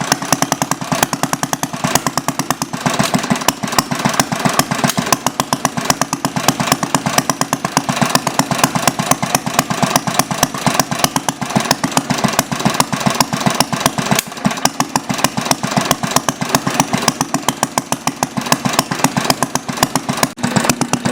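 A small single-cylinder Briggs engine fitted with a glass head idles with a rapid, steady chugging beat, loud and close, running unchanged throughout with no talking.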